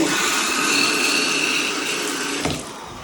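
Steady rushing of water pouring from a tap, close and continuous, with a brief knock and slight drop in flow near the end.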